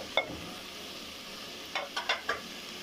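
Squash and potatoes frying in a pan, with a faint low sizzle under a few short scraping stirs near the start and a quick run of stirring knocks toward the end.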